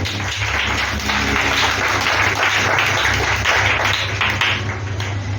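A church congregation applauds to acclaim the Lord, with steady, dense clapping that runs unbroken for several seconds at close, full volume and no talk over it.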